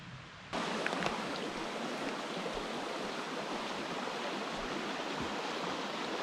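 Minister Creek in the Allegheny National Forest flows in a steady, loud, close rush of water that starts abruptly and continues unbroken, with no voices.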